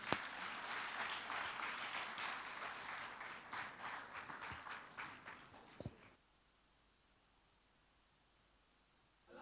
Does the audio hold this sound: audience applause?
yes